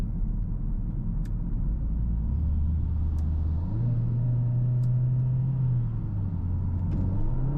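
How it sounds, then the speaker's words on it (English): A Mercedes-AMG A45S 4MATIC with a 421 hp engine, driven in a sporty mode, gives a steady low engine drone and rumble close by, its pitch rising and shifting as the car accelerates, with faint sharp ticks above. "You can definitely hear the difference in the engine note."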